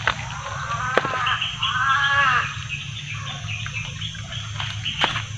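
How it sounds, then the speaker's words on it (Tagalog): A crow calling outdoors, harsh repeated caws rising over steady background noise, with a couple of sharp knocks in between. "Grabe yung uwak."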